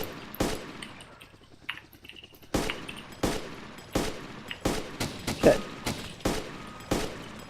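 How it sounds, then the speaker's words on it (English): Gunfire in the video game DayZ, a rapid series of sharp, loud shots at irregular intervals, some in quick pairs and bursts, over a low ambient game background. "Is that you shooting, Sim?"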